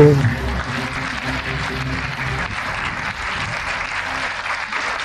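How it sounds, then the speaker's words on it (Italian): Sustained audience applause at a StarCraft World Championship Series esports event in Cologne, a dense wash of clapping that holds steady throughout, with some crowd noise mixed in. "Applaudono da Colonia,"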